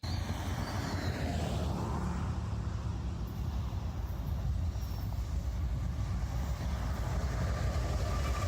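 A train passes a rail crossing as a steady, loud rumble that fills the whole stretch with a continuous low roar and no voices.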